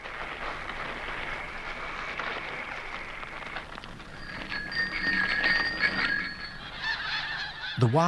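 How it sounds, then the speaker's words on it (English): Wild snow geese honk in a loose flock, their calls building from a few distant notes to a dense, overlapping chorus over a steady outdoor background. "The wild snow geese have stayed in the south all winter."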